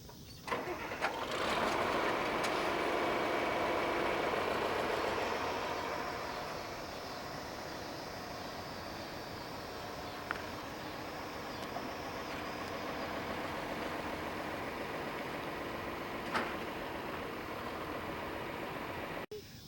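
A farm tractor engine labours to pull a tractor stuck in the mud, running loudest for the first few seconds and then holding a steady, rumbling drone until the end.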